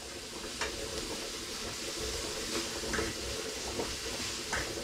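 Meat fries in a hot pan with a steady, close sizzle and hiss, broken by a few brief crackles and no voices.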